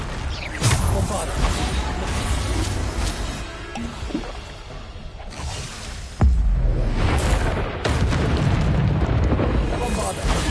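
Spell explosions from a fantasy action video game, Bombarda blasts in Hogwarts Legacy, bursting as heavy booms over a dense, busy game soundscape, with sharp hits around six and eight seconds and a voice talking over the action.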